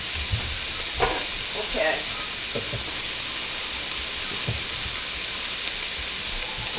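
Sausage sizzles steadily in a soup pot as it is stirred, a constant bright frying hiss with occasional soft spoon scrapes and knocks underneath, and a brief spoken word.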